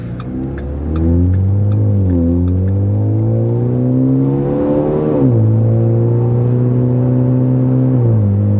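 A 2013 Ford Fusion Titanium with the muffler deleted accelerating through several gears, its loud, raspy exhaust drone rising in pitch and dropping at each upshift with brief burps between.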